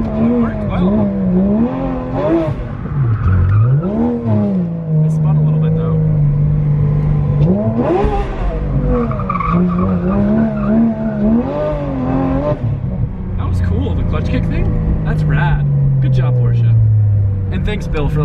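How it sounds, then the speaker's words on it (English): A car drifts through a rain-soaked parking lot in a downpour, its engine revving and falling in repeated surges while the tires skid and squeal, with someone talking throughout. "I won't feel too guilty about gripping up, drifting on the tires and stuff"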